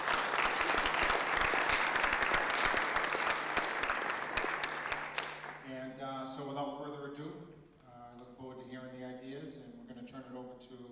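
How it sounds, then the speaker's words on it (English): Audience applause at a town meeting, a dense wash of clapping for about five seconds that then fades as a voice begins talking over the last of it. "They deserve a round of applause."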